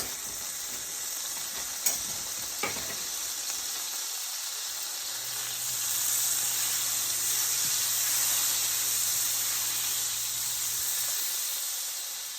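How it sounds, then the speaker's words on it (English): Butter and olive oil sizzle in a hot pan, a steady crackling hiss throughout with a couple of small clicks near the start. "And let that sizzle."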